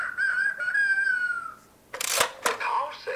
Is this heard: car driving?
no